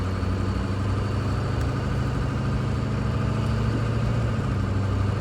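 Ford 6.0 Powerstroke diesel pickup running in regular drive, a steady low, heavy engine drone that holds even and constant throughout with no talking.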